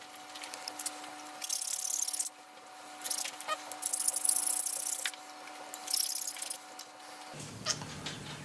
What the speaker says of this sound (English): So let's go ahead and file that down. Just using a hand file.